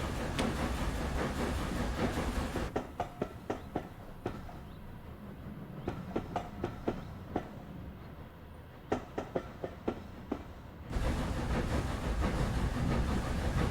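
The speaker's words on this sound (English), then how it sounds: "Chuffs are quite light there." SDJR 7F 2-8-0 steam locomotive in Train Simulator, light rhythmic chuffs spaced about a second apart under a steady hiss and rolling rail noise, fairly soft, with a louder wash of running noise before and after.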